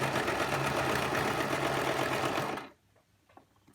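A sewing machine runs steadily at close range, stitching a back tack on a ruffled skirt, its fast motor whir continuing for about two and a half seconds before stopping abruptly into near silence.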